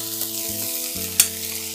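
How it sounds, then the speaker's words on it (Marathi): Rice sautéing in a pan for drumstick khichdi gives a steady close sizzle with a clatter of stirring and one sharp scrape near the end, with a low hum underneath and no voices. "छान असे हे तांदूळ परतवून झालेले आहे"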